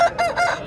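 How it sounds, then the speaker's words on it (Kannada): An Aseel rooster at a market gives a short nearby call, a rough harsh crow or squawk in two or three quick pulses. "ಇಲ್ಲಿ ಒಂದು ಹುಂಜ ಇದೆ ನೋಡಿ."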